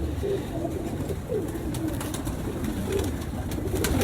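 Indian breed pigeons coo in repeated soft, low throaty calls, close by over a steady hiss of background noise, with no voices.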